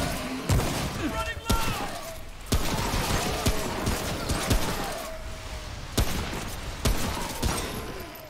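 Lever rifle shots in the game Remnant: From the Ashes, about eight sharp, loud cracks at irregular intervals, with mechanical reload clatter and game noise between them and a voice talking underneath.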